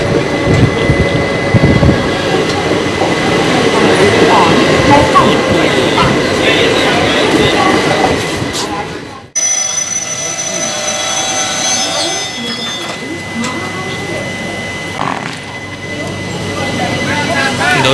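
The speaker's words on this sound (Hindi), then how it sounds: "दोस्तों अभी हमारी ट्रेन धौलपुर से निकल रही है, 2 मिनट का हॉल्ट लेके" Punjab Mail express train pulling out of Dholpur station after a two-minute halt: a steady, loud rumble of rolling carriages, briefly cut off midway, then resuming with higher squeals and clatter, with faint voices in the background.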